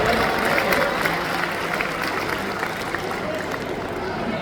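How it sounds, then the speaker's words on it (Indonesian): Applause from an audience at a 12th anniversary event for Nara Kreatif at a university, steady dense clapping throughout at moderate distance, with faint crowd murmur underneath. "Tepuk tangan untuk paket B."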